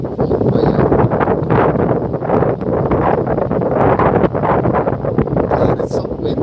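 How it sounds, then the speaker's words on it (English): Strong wind buffets a microphone outdoors, a loud, continuous low roar with uneven gusty surges and faint rustling, sustained from start to finish. "God, it's so windy."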